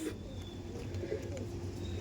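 Andhra pigeons just released into a cage, a pair of male and female, give low, soft cooing over a steady background hum, moderately close and continuous throughout.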